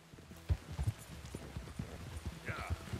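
In Red Dead Redemption 2, horse hooves clip-clop in an irregular trot on the ground, close and fairly quiet, with a short voice near the end.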